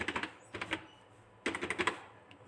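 Bursts of typing on a computer keyboard during a beginner HTML coding lesson: two quick clusters of close, crisp key clicks separated by a short pause, with no talking.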